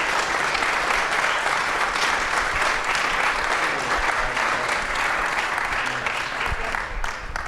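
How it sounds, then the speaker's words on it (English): Audience applause fills a live podcast recording at an industry event, a dense, steady wash of clapping from a large crowd that holds strong throughout and thins slightly near the end. "let's give these gentlemen a big round of applause"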